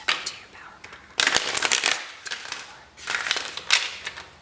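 Tarot cards are shuffled by hand in several bursts of crisp riffling and rustling, close and fairly soft, with brief pauses between passes and no talking over them.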